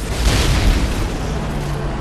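A grenade explodes in a Call of Duty: Modern Warfare 3 campaign firefight, giving a loud, broad booming blast with a dense rumbling tail that fills the whole short moment with no voices over it.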